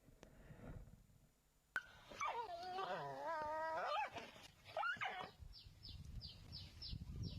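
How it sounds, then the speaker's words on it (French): A dog lets out a wavering whimper followed by short yips, close and moderately loud, after a sharp knock, with faint high chirps trailing at the end. "Et dès qu'il a commencé à couiner, il a lâché."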